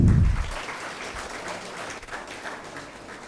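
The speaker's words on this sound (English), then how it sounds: "So please give him a big round of applause." Moderate applause from an engineering college orientation-day audience, a soft continuous patter of many hands after a low thump at the start, fading gently.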